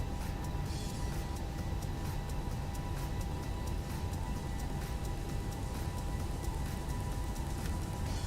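Light rain in a flight simulator game, a steady dense patter of drops over a constant engine-like rumble, unbroken and even throughout.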